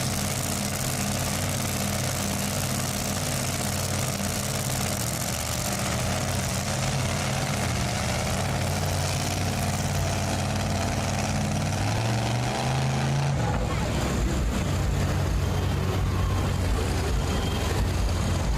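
The engine of a super modified 4x4 pulling truck roars loudly and continuously at a county fair tractor pull, a rough droning blare that shifts pitch partway through as the run changes.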